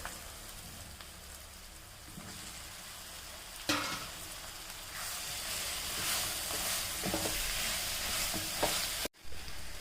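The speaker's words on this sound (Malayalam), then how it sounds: "സോയ ഇട്ട് നമുക്ക് നന്നായി ഇളക്കി യോജിപ്പിച്ചിട്ട്" Soya chunks are stirred into masala frying in a pan, making a steady close sizzle with scraping stirs and a sharp rise in crackle partway through as they land in the hot pan. No one talks.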